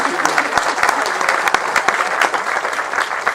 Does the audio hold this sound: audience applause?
yes